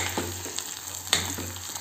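Spicy liver masala sizzles in an oil-filled pan, a close steady frying crackle broken by several scraping stir strokes and one sharper clink of the spoon against the pan, with no talking.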